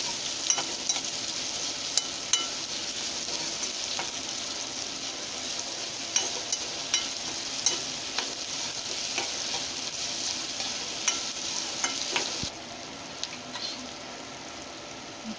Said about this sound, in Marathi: टाकते बारीक चिरलेला कांदा, आता चांगला गुलाबी फ्राय करून घ्यायचा